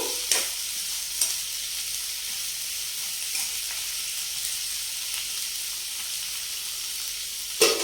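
Ingredients for a Sri Lankan parippu lentil curry are stirred in a frying pan, a steady hiss of frying with occasional scraping clicks of the spoon.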